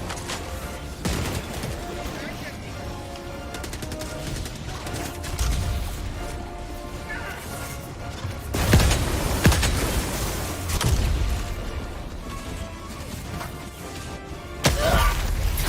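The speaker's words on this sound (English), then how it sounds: "Mag's empty! New mag! Throwing grenade." Helldivers 2 gameplay, with rapid bursts of gunfire crackling through a battle and heavy grenade blasts booming out, the loudest near the middle and at the end. Voices talk over the combat.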